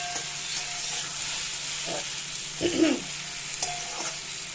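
Pointed gourd and eggplant fry in a pan, giving a soft steady sizzle with a few brief stirring scrapes near the middle, close and fairly quiet.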